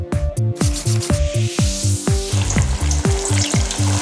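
Shredded potato nests deep fry in hot oil, giving a loud, dense bubbling hiss. A rhythmic beat with musical tones plays steadily over the frying.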